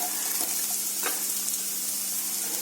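Beans and carrot sautéing in a hot pan for chicken fried rice, a loud, close, continuous sizzle with a couple of brief stirring scrapes, no talking.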